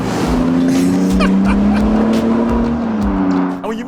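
A Toyota Sequoia TRD Pro hybrid engine pulls hard under acceleration, a loud, close, sustained droning hum that rises slightly in pitch and holds for several seconds before easing off.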